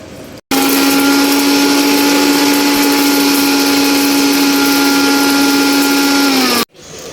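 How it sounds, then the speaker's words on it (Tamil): A kitchen mixer grinder grinds fennel and dried chillies with a loud, steady motor whine. It starts abruptly after half a second, runs evenly for about six seconds, then cuts off. "இதா ஒரு ஒரு சுத்து மிக்சியில போட்டுட்டு"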